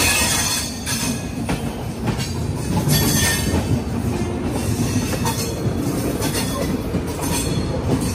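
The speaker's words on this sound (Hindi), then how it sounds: "डिब्रूगढ़ राजधानी एक्सेलरेट कर रहा है" The Dibrugarh Rajdhani Express, an Indian passenger train, rumbles steadily as it picks up speed, with heavy wheel noise, rhythmic clatter over rail joints and faint squeals, close and sustained without speech.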